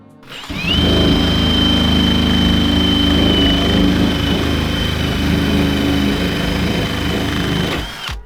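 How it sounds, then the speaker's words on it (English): A stripping wheel on a power tool spins up and grinds steadily at close range for several seconds, clearing caulk residue, rust and paint from a back window frame on an OBS Chevy truck, then winds down at the end. "Now we're using this kind of stripping wheel. I already started."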